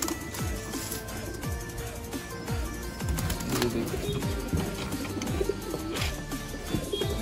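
Pigeons, including a Chinese pigeon, coo repeatedly in low, rolling calls, several birds overlapping nearby, with occasional chirps and wing flutters mixed in.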